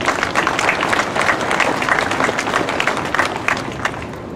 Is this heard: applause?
yes